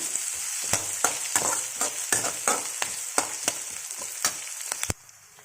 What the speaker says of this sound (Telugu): ఇప్పుడు ఆనియన్స్ వేద్దాం కొద్దిగా కలుపుదాము కొద్దిగా ఎర్రగా కావాలండి ఫ్రై కావాలి